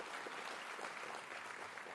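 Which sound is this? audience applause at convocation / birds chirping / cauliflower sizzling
audience applause at convocation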